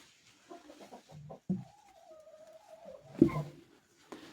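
A broody hen sitting on eggs gives soft, close clucks in short bursts, then a longer drawn-out croon and a few sharper clucks, faint against a quiet background.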